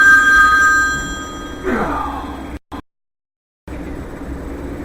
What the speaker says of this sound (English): A phone call in the middle of it.